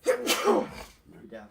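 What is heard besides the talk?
sneeze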